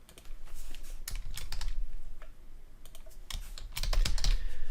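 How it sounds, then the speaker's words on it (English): Someone types steadily on a computer keyboard, entering a first and last name into an online form. Clusters of crisp key clicks come in quick bursts with brief pauses, close and clear, with no talking. "then you'll type in your first and last name"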